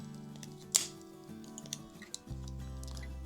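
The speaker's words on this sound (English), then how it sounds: "to have a look at the scissors and to see them in action" A single crisp snip from the serrated scissors of an old Wenger Swiss Army knife, close and quiet, followed by a few faint clicks and handling sounds against a low hum.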